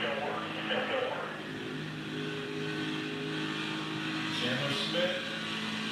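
NASCAR Xfinity Series race cars at Kansas, in the 2024 Kansas Lottery 300, roar as they accelerate on track. The engines drone steadily and loudly throughout, with a commentator talking over them.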